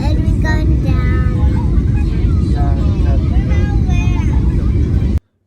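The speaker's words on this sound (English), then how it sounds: "The plane landed." A passenger airplane landing, heard from inside the cabin as a loud, steady roar of engine and airflow under people talking, cutting off abruptly at the end.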